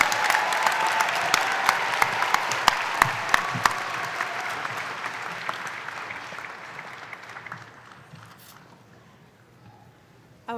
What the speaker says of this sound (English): How about one last round of applause for our Heller College of Business master's degree candidates?